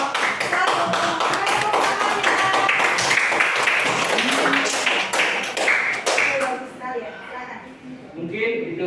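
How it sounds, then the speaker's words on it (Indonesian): Clapping from a classroom of students for a presenting group in a physics lesson, with dense overlapping claps and voices talking over them throughout, easing slightly toward the end. "Oke, tepuk tangan untuk kelompok 1."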